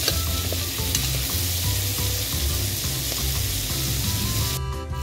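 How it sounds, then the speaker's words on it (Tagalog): Tomatoes, added to browning meat, sauté in a pan with a loud, even sizzle and repeated stirring scrapes, close and continuous, with no voices over it. "Kaya ilagay na natin ang kamatis. Ayan. Halo natin ulit."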